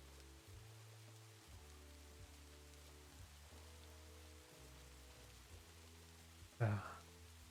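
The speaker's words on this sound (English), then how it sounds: "The gentle sounds of rain." Steady soft hiss of rain falling in the Minecraft modpack TerrafirmaGreg, a constant wash of noise under low, sustained background music tones, with one brief louder thump near the end.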